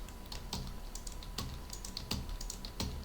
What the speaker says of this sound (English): I'm going to repeat these keystrokes.